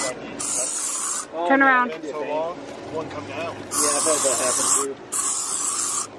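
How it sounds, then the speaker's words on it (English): Three sharp hissing spray bursts onto a leg outdoors on a hike, close and loud, with someone talking briefly between them. "Let's spray your leg."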